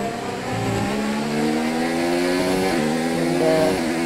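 High-pitched Formula 1 race car engines in the video game F1 2019 whine and rise in pitch as cars accelerate and overtake, a loud, continuous engine drone with no voices.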